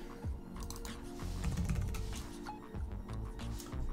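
Code being typed on a computer keyboard in VS Code makes a rapid, irregular clatter of close keystrokes with no talking.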